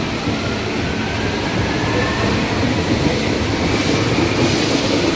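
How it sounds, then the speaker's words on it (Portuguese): A Brasília Metro series 1000 train rumbles steadily as it pulls away, a continuous loud roar of wheels and motors with a faint high whine above. "Vamos lá. Adeus, trem série 1000!"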